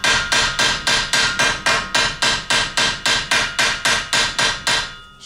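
Hammer peening metal over on a shovel handle: about seventeen sharp, ringing metallic blows in a fast, even rhythm, close and loud, stopping near the end, with no talking.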